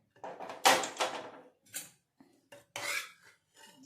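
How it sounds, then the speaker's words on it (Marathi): A pressure cooker of cooked dal is lifted off a gas stove and its metal lid is handled, giving several sharp clanks and scraping rattles in separate bursts with short quiet gaps between them. "इथे आपण आता हे गॅसवरचं कुकर आपण खाली ठेवून घेणार आहोत"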